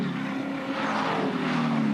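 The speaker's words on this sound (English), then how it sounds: "You just hear the snarl of these V8 Utes over the top of the hill," V8 Ute race cars at Sandown in 2013 snarl over the top of a hill, a steady droning engine roar at middle distance that swells slightly.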